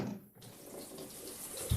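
Steady running water from a bathroom shower, a continuous hiss of spray, briefly dipping at the start before holding at an even, close level throughout.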